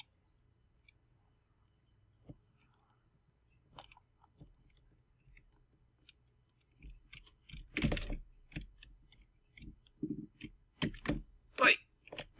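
Computer keyboard keys clack in irregular bursts during desktop gameplay of the Crowfall beta, starting as sparse, faint taps and then becoming denser, sharper clicks that grow louder toward the end.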